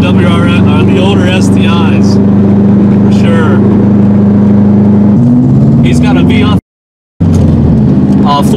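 2005 Subaru WRX STi with an aftermarket Turbo XS intercooler, its engine droning loudly from inside the cabin as it drives and revs up, with people talking over it and a brief dropout near the end.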